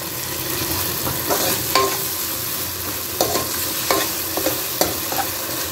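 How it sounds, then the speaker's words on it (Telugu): Ginger paste and curry leaves fry in hot oil for a goat head curry, a steady close sizzle broken by several sharp clinks and scrapes of a stirring spoon against the pan. "ఇది పచ్చి వాసన పోయే వరకు ఆయిల్లో ఫ్రై చేసుకుందామండి"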